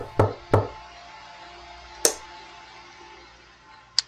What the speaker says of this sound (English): The door is still being knocked